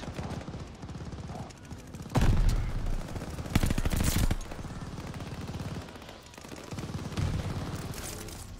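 DP27 machine gun firing in Call of Duty: Vanguard, sustained bursts of rapid gunfire with louder peaks, continuous and fairly dense over game background sound.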